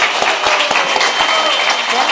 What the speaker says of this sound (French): On applaudit Miguel. encore très très fort.